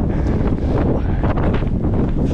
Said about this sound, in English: Yeah, give me that wind.